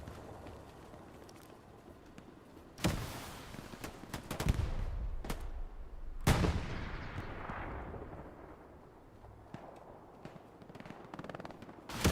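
Rocket artillery shells slam down in Hell Let Loose on Omaha Beach, a few heavy booming impacts with sharp onsets and long rumbling decays, spaced irregularly over steady distant battlefield rumble.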